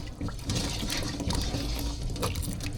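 A toothbrush scrubs between the armored scales of a hassa (cascadoo) fish in water: fast, rasping back-and-forth bristle strokes with wet splashy clicks, close and continuous.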